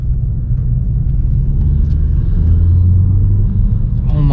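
Volkswagen Scirocco engine droning steadily from inside the car while driving, a loud continuous low rumble with slight rises in pitch, alone without talk.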